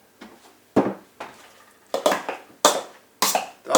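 Cooked pumpkin being mashed in a pot, a series of six or seven soft, squelching thumps in an irregular rhythm, close and fairly loud with quiet gaps between strokes.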